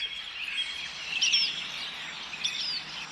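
Skylark calls in a cartoon, a few short high chirps heard twice, clear and fairly near over a steady faint hiss, with no talking.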